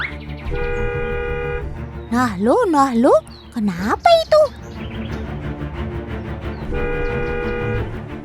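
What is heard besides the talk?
car horn honking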